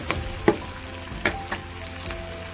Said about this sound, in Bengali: পেঁয়াজটা একটু ব্রাউন করে ভেজে নেব।